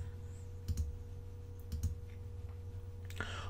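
Keys on a computer keyboard click in a few quick clusters while someone types into a spreadsheet, faint and close over a steady electrical hum, with a short sharper rustle near the end.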